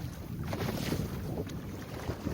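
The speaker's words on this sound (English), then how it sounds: "We're sailing along relatively nice." A sailboat under way in heavy fog, steady wind rushing over the microphone with water washing along the hull, continuous and without talk.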